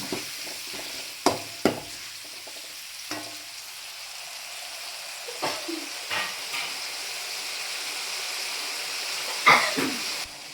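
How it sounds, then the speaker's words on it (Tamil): Tamarind water bubbling and simmering in a pan for fish head curry, with intermittent stirring clinks and scrapes over a steady low hiss. "புளி தண்ணி சேர்த்து ஒரு ரெண்டு நிமிஷம் போல் நல்லா கொதிக்க விடுறோம்"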